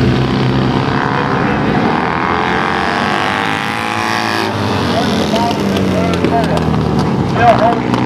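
Vintage Triumph twin-cylinder racing motorcycle at full throttle on a track in Waco, a loud continuous engine roar with rising and falling revs as it pulls down the back straightaway, with a race commentator's voice over it.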